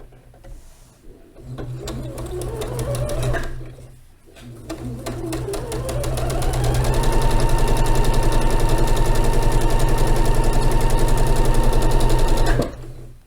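A domestic sewing machine stitches a row of quilt pieces together, its needle running in a fast, steady mechanical chatter that starts and stops, then settles into a long continuous loud run before cutting off abruptly.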